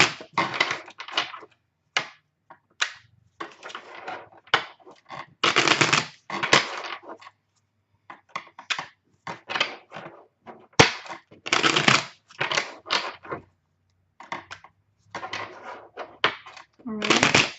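A Morgan Greer tarot deck, Rider-Waite-Smith based, is shuffled by hand in repeated bursts of close, crisp card riffling and flapping, with short pauses between rounds.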